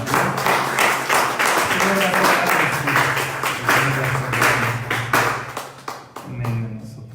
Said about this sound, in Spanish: Es una ofrenda de palmas al Señor